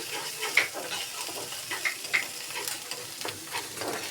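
Ginger paste sautéing in a pan while a tengra fish bhuna is being made, giving a soft, steady sizzle with a few sharp clinks of a spatula against the pan.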